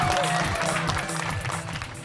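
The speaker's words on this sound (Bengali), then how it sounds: "আসছে লগ্ন, হাততালি।" A crowd applauds as Lagna comes on stage, a dense, steady wash of clapping filling the space for a couple of seconds.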